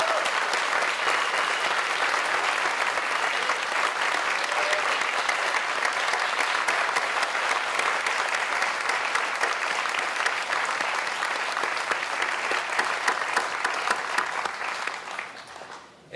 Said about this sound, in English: Please join me in another round of applause for all of our award recipients.